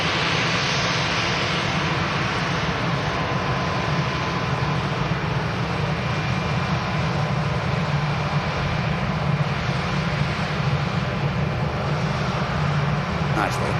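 A Ryanair airliner on its takeoff roll at Manchester Airport, a broad, constant jet roar with low rumble holding steady throughout, heard from a distance with a voice talking over it.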